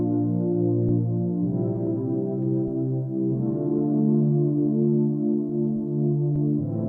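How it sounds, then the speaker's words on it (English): A short synth melody loop sample plays steadily on its own, a sustained tonal phrase with soft low notes and gentle rhythmic repetition throughout, fairly loud and clean, ready for bitcrushing sound-design processing. "So we have this little melody loop right here, and it sounds like this."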